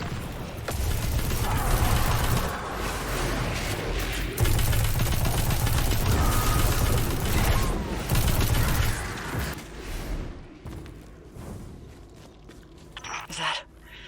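Heavy gunfire in a Destiny 2 battle, loud sustained rapid shooting and blasts layered over each other for about ten seconds, then thinning out to quieter scattered sounds.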